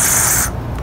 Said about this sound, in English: I'm gonna go ahead and clean it with this mass airflow sensor cleaner. Just spraying it in the end here.